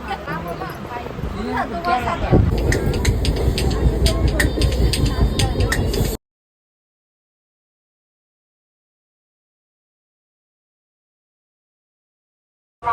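Steady rumble and clatter of a moving express train car bound for Pune, with murmuring passenger chatter throughout, cutting off abruptly partway before a brief return at the end.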